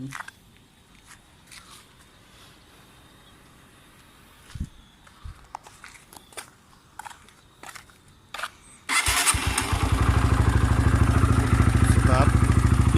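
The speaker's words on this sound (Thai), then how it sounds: "กดทีเดียวติดเลยนะครับ เครื่องก็นิ่มดีอยู่นะครับ" Honda Sonic 125 motorcycle with a button start: light clicks and handling noises, then the engine fires near the end and settles into a loud, steady idle close by.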